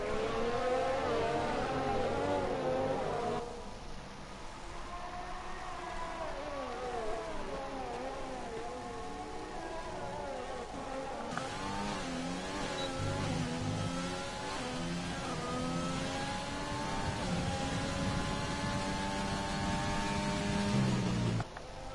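A McLaren Formula 1 car engine racing in an F1 video game, a high sustained whine rising in pitch through the gears with sweeping shifts, loud and continuous, heard alone without talk.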